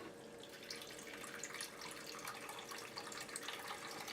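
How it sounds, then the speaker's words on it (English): Cleaning solution runs through the port of a homebrew fast-ferment conical fermenter on a stand and pours into a bowl, a steady broadband splashing trickle with faint dripping, continuous and alone at close range. "Let's go ahead and run some cleaner through the port."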